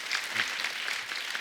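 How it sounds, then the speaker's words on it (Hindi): A studio audience applauds guests at a televised reunion of the original Aashiqui film cast, producing a dense, steady wash of clapping that stays fairly loud and even for the whole short stretch, with no voices. "एक बार जोरदार तालियां हो जाएं"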